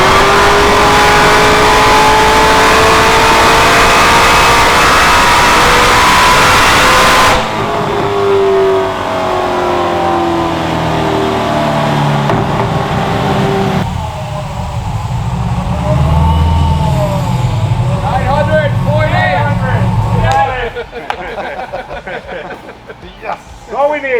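Built 8-second drag streetcar engine revving hard on a dyno with the power pipe on the exhaust, loud sustained roars shifting pitch through several pulls, then a rising rev near the end, with voices heard over it.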